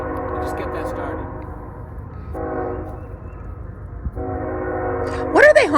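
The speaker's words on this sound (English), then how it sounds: "They're going over a crossing. They're warning cars. So everybody knows the train's coming." Train horn sounding as a train goes over a level crossing, several sustained multi-tone blasts at moderate distance, with a voice talking near the end.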